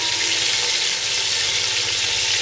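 Whole biryani spices, including mace, mace buds and bay leaf, sizzle steadily in hot oil in a pan for veg biryani, a dense continuous frying hiss with no talk.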